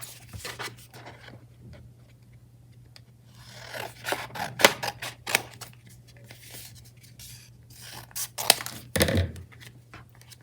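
Scissors snip away excess paper from a folded paper booklet in a series of close, crisp cuts and rustles, irregular in rhythm with brief pauses between clusters of snips.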